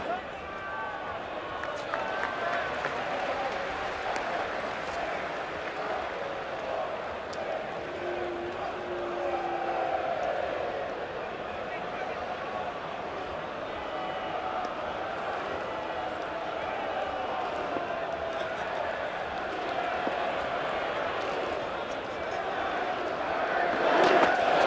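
A full stadium crowd at a T20 cricket final between Essex Eagles and Worcestershire Rapids keeps up a constant murmuring roar with scattered shouts and claps, swelling louder toward the end, under commentary.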